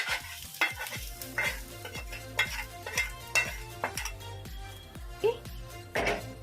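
Onions frying in a pan and being stirred, with a steady sizzle and repeated scraping strokes of the spatula, all under a rhythmic musical backing.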